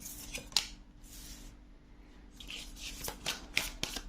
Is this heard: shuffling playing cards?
yes